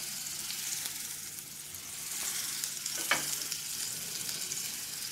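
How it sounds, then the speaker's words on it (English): Unsalted butter melting in a smoking-hot pan, giving a steady, even sizzle with a faint crackle throughout and one brief sharper pop near the middle, close and moderately loud with no talking. "our pan is smoking, so I'm going to go ahead and add to this a tablespoon or so of unsalted butter"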